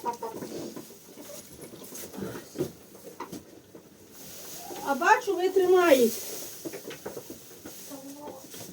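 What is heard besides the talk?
chickens clucking in a barn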